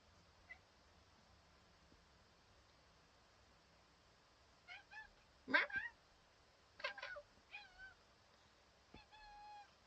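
A kitten meowing indoors during a live stream, several short faint-to-moderate meows scattered over quiet background hum, ending in a longer drawn-out cry.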